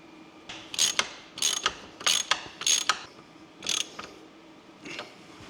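A wheel is bolted onto an Allis Chalmers tractor with a ratchet, which gives about eight short clicking bursts in an uneven rhythm, close and clear, with no talking.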